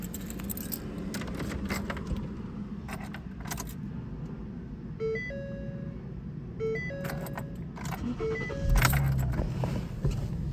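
Keys jangle for several seconds, then a 2013 Ford Police Interceptor Sedan is started, with chimes and a steady engine idle swelling near the end; close and moderately loud, with no talking.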